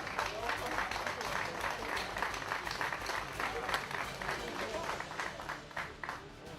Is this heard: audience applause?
yes